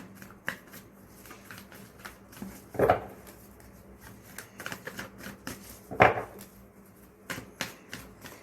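Cards being shuffled by hand in a quiet room: a run of soft riffling flicks and taps, with two louder, fuller riffle bursts standing out near the middle and later on, all close and fairly faint.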